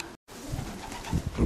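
Racing pigeons in a breeding loft coo softly and steadily, with low, rolling calls close by and a brief gap near the start.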